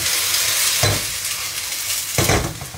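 Carrot and onion sizzle steadily in a pan for stuffed peppers, while a utensil stirs with two distinct scraping sweeps, one early and one near the end.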